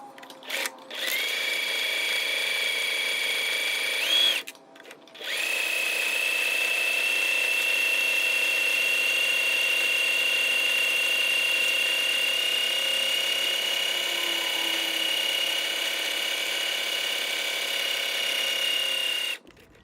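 Sewing machine stitching a long fabric seam with a quarter-inch allowance for a neck cooling wrap, a steady close mechanical whir running continuously with a short pause near the start.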